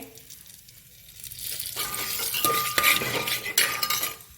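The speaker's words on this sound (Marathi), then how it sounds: "हा खडा मसाला जरासा गरम होतोय" Whole spices with fenugreek seeds and urad dal heating in a pan, giving a steady soft sizzle that swells after a quiet start, with light stirring scrapes and faint clinks of a spoon against the metal.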